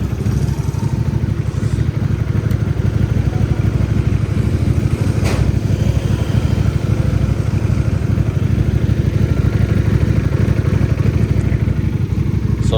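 A Chinese 400cc V-twin low-rider cruiser motorcycle with a five-speed gearbox idles close by in a loud, steady, lumpy throb with a rapid pulsing beat, plus a few faint clicks over the top.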